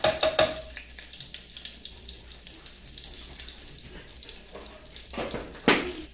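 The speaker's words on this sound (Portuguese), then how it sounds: "Quando eu vou fazer o feijão, eu deixo o alho queimar bem." Garlic frying in a pan as seasoning for beans, a soft sizzle running under clinks and scraping, with louder bursts at the start and near the end.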